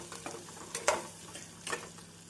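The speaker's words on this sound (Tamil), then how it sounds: "மஞ்சள் பொடி சேர்த்து நன்றாக வெங்காயத்துடன் மிக்ஸ் செய்ய வேண்டும்." Onion and garlic sauté with turmeric in a pan while a spoon stirs them, giving a quiet sizzle broken by a few soft scraping strokes, close and without speech.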